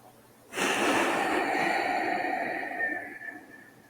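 A long, deep, steady breath drawn in during a calm yoga breathing exercise comes through loud and close, sustained for several seconds before slowly tapering off.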